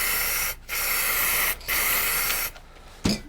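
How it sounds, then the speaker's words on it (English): Rust-Oleum triple thick clear finish sprayed from an aerosol can onto a carved maple sign, in three steady broadband hissing bursts with short gaps, then a brief final puff, close and alone. "I'm going to put a coat of finish on this, and I'm using the triple thick"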